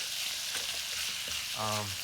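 Ground beef sizzles and fries steadily in a pan, a continuous close crackle with a brief louder hiss near the end.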